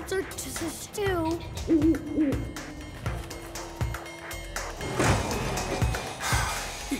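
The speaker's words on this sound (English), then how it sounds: "Mr. Owl, have you come to shelter to stew?" Owl hooting in a Chuggington train cartoon, a clear repeated hoot over soft music and background effects, with a few other brief sounds.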